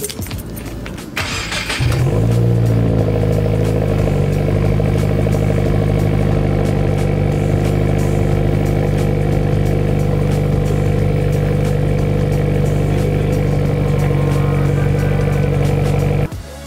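A 2018 Subaru WRX engine with a straight-pipe muffler delete starts up with a sharp crank, then settles into a loud, rough, rumbling idle that holds steady for the rest of the clip.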